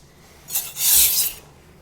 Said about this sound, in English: these two knives being sharpened on the same stone